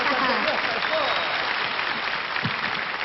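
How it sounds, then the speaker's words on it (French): An audience at a puppet show applauds steadily for about three seconds, a dense, even patter of many hands. "on va t'applaudir très fort"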